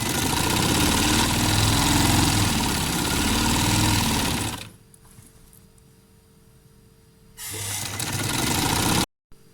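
A sewing machine stitching the pockets of a Capri trouser runs with a loud, steady motor hum for several seconds, then drops to a quiet whine before surging back up and cutting off abruptly.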